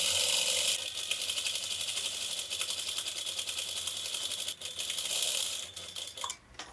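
A sewing machine stitching along a blouse neckline with a fast, even mechanical clatter that runs nearly the whole time, close and loud, then stops briefly toward the end; no voices.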